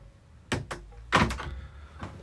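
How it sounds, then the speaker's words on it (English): A cabin door aboard a Fairline SQ53 luxury British flybridge yacht is opened, producing a few close wooden knocks and a heavier thunk of latch and panel in quick succession, with no talking. "Open the door here and we're into our dayhead"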